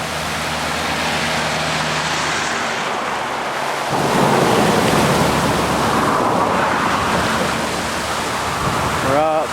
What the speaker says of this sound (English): the Yakima River's flooding like crazy right now